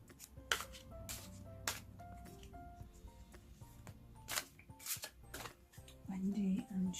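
Tarot cards being shuffled by hand, a quiet run of soft riffles and slaps with brief gaps, plus faint background sounds.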